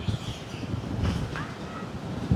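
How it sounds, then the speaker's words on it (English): Strong wind buffeting the microphone outdoors on the Limassol waterfront in Cyprus, a steady low rumble with gusty swells throughout and a heavier gust at the end. "Here the wind is indeed"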